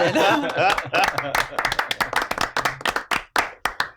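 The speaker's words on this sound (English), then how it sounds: "Let's give you a round of applause" Classroom round of applause, a short burst of scattered hand claps from a small group of students, close and uneven, with chuckles and a voice talking at the start.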